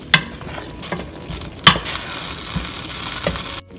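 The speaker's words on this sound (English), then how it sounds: "We will give this a good mix." A spoon stirs Dum Aloo masala in a pan with kasuri methi and garam masala, giving several scraping strokes over a soft, steady sizzle; the sound is close and heard alone.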